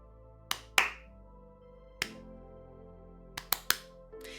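Hand claps land at uneven, unpredictable intervals, sharp and close, some single and some in quick pairs, separated by irregular silent gaps with no steady beat.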